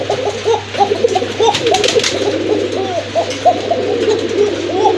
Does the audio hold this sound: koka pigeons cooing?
yes